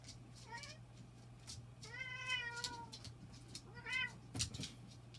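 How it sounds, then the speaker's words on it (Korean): Cat and dog fighting, with repeated drawn-out meows and yowls from the cat over a low steady hum, plus a sharp scuffle burst near the end. "고양이하고 개하고 열심히 싸우네요."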